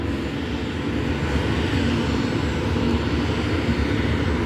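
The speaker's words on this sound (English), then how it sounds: "That's a sweet looking jet right there with the black and the white." A jet aircraft at Scottsdale airport produces a steady, loud engine roar with no breaks, sounding close and continuous for the whole stretch.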